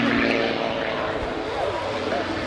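A Pitts aerobatic aircraft at an airshow display drones with a rasping propeller engine note that wavers in pitch, heard at a distance under a commentator's talk.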